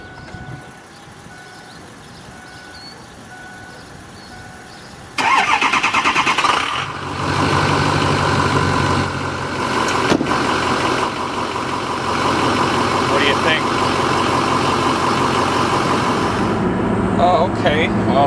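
A diesel Ford F-250 truck cranks and fires at about five seconds, then holds a loud, rough idle with a clattering diesel edge. Someone talks over the idle.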